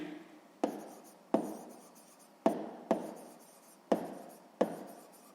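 A pen writes a number on paper up close, making a series of quiet, distinct scratchy strokes at irregular intervals with brief pauses between them.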